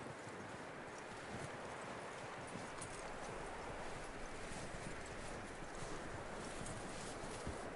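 Horse hooves clip-clop steadily in the video game Red Dead Redemption, a continuous rhythmic clatter of footfalls over a dense, noisy background.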